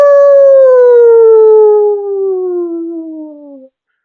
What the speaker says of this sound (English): don't know if Hound Dog actually howls